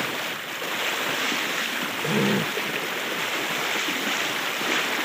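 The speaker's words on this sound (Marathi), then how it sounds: "तिकडं बघितलं कसं झप झप झप पाणी आलं, नुसतं लाटा मारले मारा लागले" Floodwater on the swollen Chandrabhaga river rushes past in a steady, loud broadband roar, with surging waves slapping against the bank and wind buffeting the microphone.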